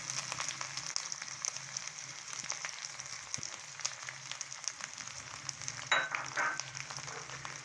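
Ginger paste sizzles steadily in a pan with browned onions, a soft continuous frying hiss with a few stirring scrapes and no talk.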